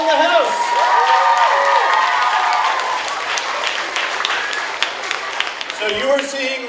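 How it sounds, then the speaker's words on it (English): An audience in a school gathering breaks into applause at a middle school's first-day welcome, with loud sustained clapping and some cheering mixed with a voice and music near the start and end. "Another round of applause for a ball in the house."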